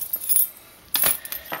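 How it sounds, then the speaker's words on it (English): Metal keys scratching across a printable adhesive skin on an iPod, two bursts of bright rasping scrapes separated by a short pause, close and clear with no talking. "if I was to take my keys and scratch it"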